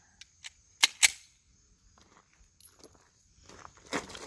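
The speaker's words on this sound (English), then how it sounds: "Hey, that thing's a lot easier to rack." Someone racks the slide of an FN FNS-40 Long Slide pistol: two sharp metallic snaps close together after a few light clicks, then quieter handling noises.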